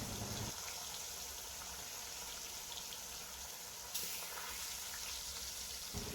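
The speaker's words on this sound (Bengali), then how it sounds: "তেলটাও খুব ভালো হয়ে গরম হয়ে গিয়েছে। এবারে আমি অল্প একটু হলুদ দিয়ে দিলাম। এবারে আমি মাছগুলো দিয়ে দিচ্ছি।" Salted fish pieces go into very hot oil with a little turmeric, setting off a loud, dense sizzle that stays steady and jumps a touch louder partway through.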